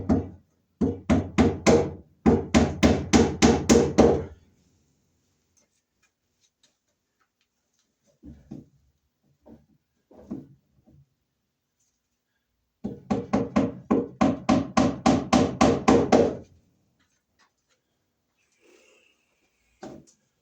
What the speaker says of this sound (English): let's staple our wire up along the joist here